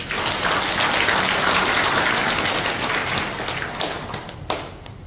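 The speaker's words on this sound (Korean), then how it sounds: "그런 의미에서 한번 박수 한번 쳐주세요." Audience clapping at a members' convention in a hall, a loud sustained round of many hands that thins and fades toward the end, with a few sharp individual claps and thumps.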